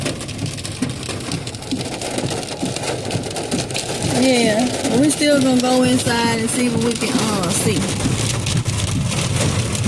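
Heavy rain pours down steadily at a Tractor Supply garden center, a dense continuous patter close by, with a person talking over it partway through.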